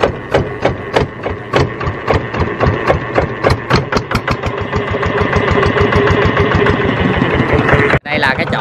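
Engine of a cargo boat setting off on a Vietnamese waterway, a loud, close diesel chug with rapid rhythmic knocking that smooths into a steady drone, cut by a brief dropout near the end.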